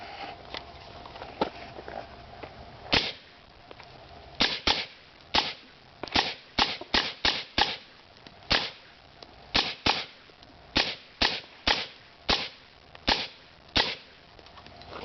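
Suppressed 5.56 rifle fired through a SilencerCo Hybrid suppressor on an ASR mount: about twenty sharp muffled cracks, some single and some in quick pairs and clusters, with short quiet gaps between them and no talking.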